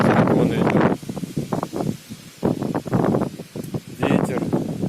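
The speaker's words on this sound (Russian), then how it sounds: "сегодня прям ураган с горячим ветром" Strong hot wind gusts in loud rushing bursts against the microphone along a long street lined with swaying poplars, surging and dropping in waves with brief lulls between.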